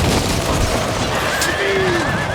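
Cavalry horses neigh amid the din of a Pike & Shot Total War battle, one clear whinny rising over dense, loud battlefield noise of clashing troops and distant fire.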